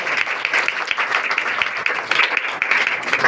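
Crowd applauding a second-place student prize winner at a school writing competition, dense steady clapping from many hands filling the room throughout.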